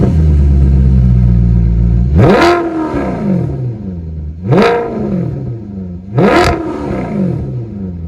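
Maserati GranTurismo S with its 4.7-litre V8 revs hard three times, each exhaust roar climbing sharply to a loud crackling peak before dropping back to a deep idle burble, close by.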